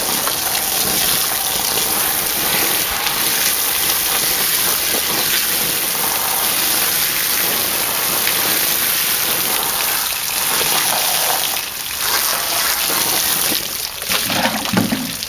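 A garden hose sprays water steadily onto a ghillie suit laid out to dry on a deck outdoors, producing a continuous loud hiss and splatter with no talking.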